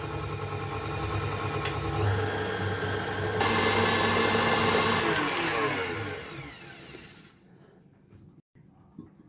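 An electric mixer whirs loudly and continuously through muffin batter, its motor pitch shifting a little as it works, then cuts off, leaving near silence with faint bumps.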